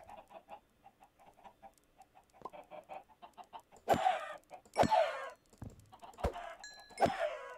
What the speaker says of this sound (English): we are inside the chicken coop. You will see here that there are many chickens.